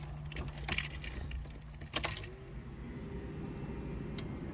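Car keys jangle close by in a quiet garage, a few quick metallic clinks before a faint steady hum continues.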